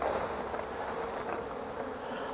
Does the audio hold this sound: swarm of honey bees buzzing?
yes